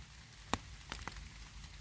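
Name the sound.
rain falling in a forest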